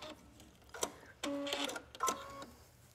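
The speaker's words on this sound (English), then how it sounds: "I'm gonna show you how to sew the ribbon on" A sewing machine stitches ribbon onto a fabric bell sleeve in short separate runs, three quick mechanical bursts with pauses between them, close and moderately loud with no talking.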